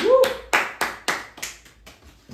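A small group claps in a few quick bursts, roughly six sharp rounds fading over two seconds, with a brief voice at the start.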